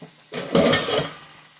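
Vegetables for a Philly cheesesteak casserole hit a hot pan with a sudden sizzle and a few clinks of a utensil stirring against the cookware, close by and short, with no talking.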